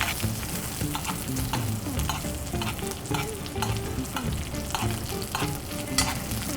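Steak searing in a pan of foaming butter with garlic and thyme makes a loud, constant sizzle, broken by repeated sharp scrapes and clinks as the butter is basted over the meat.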